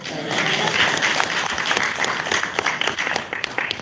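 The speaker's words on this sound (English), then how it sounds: "And I will request more applause for her." Sustained applause from an audience at an artificial intelligence ethics conference, many hands clapping in a dense, even patter that holds steady and starts to thin near the end.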